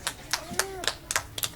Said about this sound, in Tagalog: Palakpak daw, palakpak.